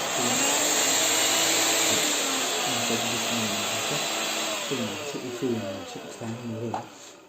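A cordless Electrolux Ergorapido stick vacuum cleaner (EER77SSM) runs close up with a loud, steady high whine and airflow hiss, its pitch shifting as it moves, and someone speaks Turkish faintly under the noise toward the end.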